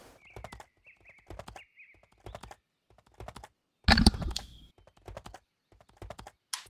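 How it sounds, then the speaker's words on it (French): Repetitive horse hoof clip-clops from the video game Dungeons Folies, a series of short rhythmic clattering bursts at a steady pace, with a louder busier burst around the middle and no voices over it. "Le bruit des chevaux à force il est assez monotone quand même."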